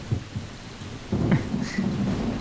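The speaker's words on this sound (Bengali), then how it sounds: "খুব বৃষ্টি হচ্ছে বাইরে" Heavy rain falls outside while thunder rumbles in low, rolling bursts, building to a steadier roar in the second half. No voices are present.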